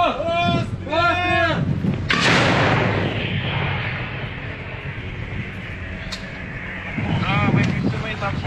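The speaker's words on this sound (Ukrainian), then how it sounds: "Постріл!" A single loud artillery gun shot from a tank-brigade crew position booms out and its roar rolls on and fades, with voices talking just before it and wind noise throughout.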